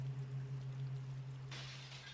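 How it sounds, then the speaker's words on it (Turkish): Glass shatters in the Resident Evil 2 video game, a sudden bright burst of breaking fragments after a quiet, humming stretch, fairly faint and with no talking. "Cam kırıldı."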